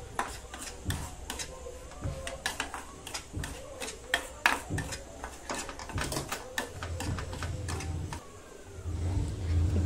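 Semolina (rava) is roasted for mango shira while a spoon stirs it in a pan, making repeated close metallic clinks and scrapes in an uneven rhythm, and a low rumble rises near the end.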